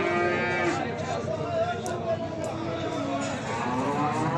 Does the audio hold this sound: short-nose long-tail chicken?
no